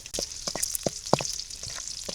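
Chopped garlic frying in hot oil, crackling and sizzling with scattered sharp pops over a steady hiss, fairly close and with no one talking.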